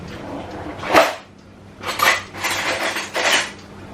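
A spoon clinks and scrapes against a bowl in several short bursts of stirring, close and fairly loud with brief pauses between strokes.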